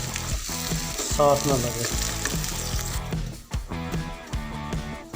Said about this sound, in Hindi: मैं भिंडियाँ ऐड करूँगा, बल्कि कर दूँ ये फ्राई हो जाए इस ऑयल में